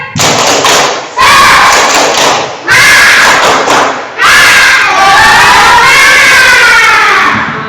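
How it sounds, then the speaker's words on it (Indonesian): Children in a classroom perform a rhythmic spirit clap, loud bursts of unison clapping and shouting in three or four chanted rounds separated by short pauses. "Ayo tepuk semangat dulu ya."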